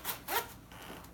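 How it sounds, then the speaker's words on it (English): A zipper on an anorak suit is pulled in two quick, close strokes, a short soft rasp near the microphone, followed by faint fabric rustle. "snaps and zipper"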